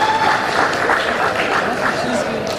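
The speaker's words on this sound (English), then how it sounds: "Round of applause for her," Applause from an audience at a 2016 Yoruba Day event on unity, a steady dense wash of clapping and crowd noise throughout, loud and close, with voices mixed in.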